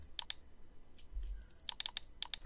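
Mouse and keyboard clicks at a computer while modelling in SketchUp, sharp close-up taps in scattered clusters, some rapid doubles, with no talking.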